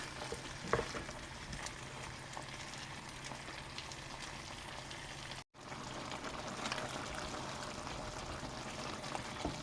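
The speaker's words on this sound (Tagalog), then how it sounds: "Halo-haloin lang natin para makuha ang tamang kulay." Fried potatoes stirred in a hot pan for chicken pochero, a steady close sizzle with scraping and tossing throughout, one brief silent gap midway, no talking.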